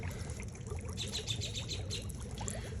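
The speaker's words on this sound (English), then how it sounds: "It's time to dump them in." Water with live fish pouring from a container into an outdoor pond tub, a steady splashing trickle with brighter gushes midway, close and continuous with no talk.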